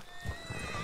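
Horse in a western video game, a brief soft snort and clip-clop of hooves, faint and close, heard alone for under a second.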